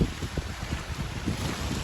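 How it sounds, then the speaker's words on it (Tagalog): Strong wind buffets the microphone near the sea at night with heavy waves, a rough gusty rumble with low thumps of wind and surf close by. "Guys, ito kayong hangin guys."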